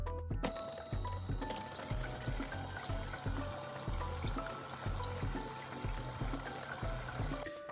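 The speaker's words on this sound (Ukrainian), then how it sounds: "взбиваю їх міксером і поступово додаю цукор." An electric hand mixer beats three eggs as sugar is gradually added for an orange cake, whirring steadily and close with rhythmic pulses as the beaters knock against the bowl, with no talk throughout.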